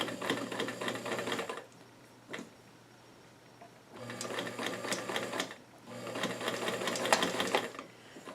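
Sewing machine edge stitching a pair of doll jeans in three bursts of quick, rattling stitches with short pauses between them, close and fairly quiet.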